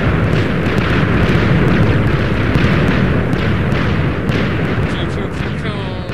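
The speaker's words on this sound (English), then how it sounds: "I'm only starting to hear the explosions on, now." A continuous rumble of booming video game TNT explosions and crackling blasts, loud and layered, without clear pauses between them.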